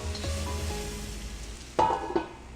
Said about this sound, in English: I'll pour in half tablespoon of oil and saute the onions.